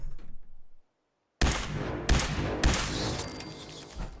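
Gunshots from a low-accuracy weapon in Fallout 4: a faint rumble, a second of silence, then three sharp, loud reports with lingering echo between them.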